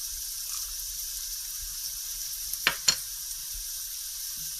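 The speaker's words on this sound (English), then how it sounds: "I'm going to cook the onions till they're nice and soft" Onions frying in a pan for a spicy potato-stuffed paratha filling, a faint steady sizzle running throughout with two brief clinks of a utensil near the middle.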